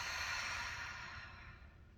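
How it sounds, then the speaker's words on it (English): A single long, deep exhale close to the microphone, a soft airy rush of breath that slowly fades over about two seconds with no talking. "Exhale."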